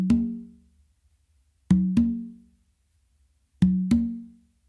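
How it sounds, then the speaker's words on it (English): Three pairs of open tones on a tumba and a conga ring out sharp and resonant, each pair played as a quick two-stroke figure of a funk caballo pattern, separated by clear silences. "we're going to start off by doing an open with our dominant hand to the tumba"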